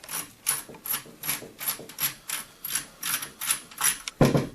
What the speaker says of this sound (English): You push this back a little bit, about halfway back, and then you can just untwist this nut up here.